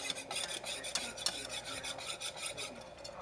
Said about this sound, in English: I'm going to continue stirring that a little bit.